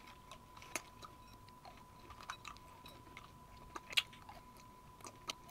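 Close, crunchy chewing of a mouthful of Skittles candy, with soft jaw clicks and sharper crunches every second or so against a quiet room, no talking.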